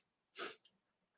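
A single short, sharp sneeze bursts out close to the microphone, followed by a brief breathy catch, then quiet.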